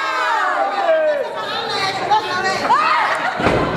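Wrestling crowd at a live match cheering and chattering in a steady roar, with shouts rising above the din and a commentator talking over it.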